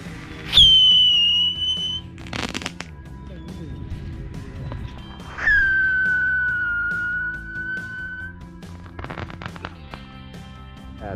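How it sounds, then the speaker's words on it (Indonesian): A turtle firecracker is lit and goes off with two long, loud shrieking whistles that start sharply and trail off, each followed by a short crackling burst, set against quiet surroundings. "Kita nyalakan petasan kura-kura seperti apa."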